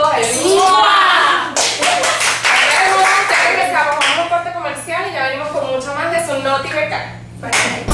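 Steady clapping from an audience at a fashion show, running throughout beneath loud, animated voices talking and cheering over it, close and lively.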